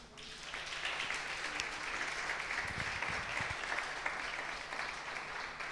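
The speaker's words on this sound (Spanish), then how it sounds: "¿Puede darle un aplauso a Jesús?" Steady congregational applause for Jesus fills a church hall, dense and sustained throughout with a few low thumps partway through and no voices on top.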